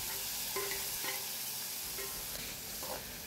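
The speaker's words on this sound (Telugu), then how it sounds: "కరివేపాకు వేసుకొని ఇంకా బాగా ఫ్రై చేసుకోవాలి." Curry leaves and finely chopped tomatoes frying in a pan for tomato rice, a steady broadband sizzle with a few light stirring scrapes, close and continuous, no voices.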